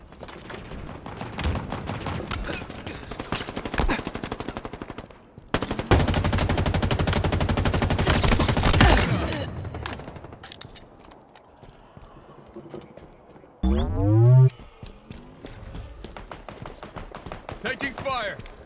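Automatic and single gunshots crackle through an intense Halo Infinite firefight, with a loud sustained burst in the middle and sharp bangs near the end, while game voice callouts sound over the action.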